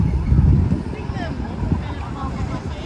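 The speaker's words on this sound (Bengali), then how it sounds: "এটা হচ্ছে আমাদের বোট।" A boat on the Saigon River in Ho Chi Minh City at night gives off a steady low rumble with wind buffeting and washing water, loud at first and easing slightly.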